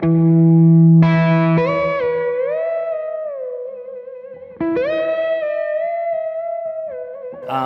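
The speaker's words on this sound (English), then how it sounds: "Here's the UFO trick, man. You just turn the reverb all the way up and you go like this." An electric blues guitar with the reverb turned all the way up plays a UFO-style effect: loud sustained distorted notes that swoop and bend in pitch, two long gliding phrases with a lingering wash of reverb and no talking.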